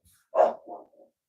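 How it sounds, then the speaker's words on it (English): A single dog barks once loudly at close range, followed by a softer trailing yelp and a faint whimper, with no talking over it. "Oh, my dog's barking."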